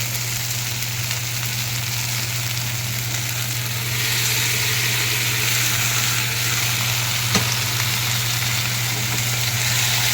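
Boiled soybean and potato sizzle and fry steadily in a pan for soybean kosha, a constant close hiss with a faint low hum underneath and one brief clink.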